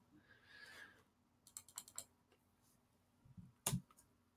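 Someone types on a computer keyboard in a quiet room, a short cluster of soft clicking keystrokes followed by a pause and then one sharper, louder key tap near the end.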